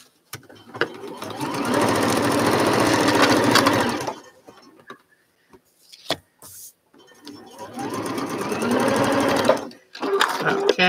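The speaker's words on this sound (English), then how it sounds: "So now I'm going to sew these two together first." A sewing machine runs steadily, stitching quilt patches together in two long close bursts of rapid mechanical whirring, with a short pause and a few handling clicks between them.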